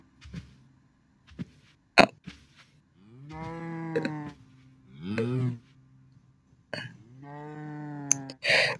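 Minecraft cows moo several times, three long nasal calls and a shorter one spaced across the stretch, mixed with sharp clicks and hit sounds in between.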